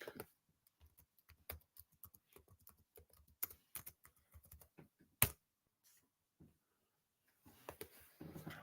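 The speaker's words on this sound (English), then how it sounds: "I will type it up." Quiet typing on a computer keyboard: a steady patter of light key clicks with brief pauses and one sharper keystroke midway, heard close and alone.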